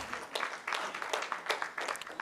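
Audience applause for a speaker at a Growth Network event: fairly quiet, uneven clapping from a modest crowd of roughly 70 to 100 people, with irregular bursts of claps through the whole stretch.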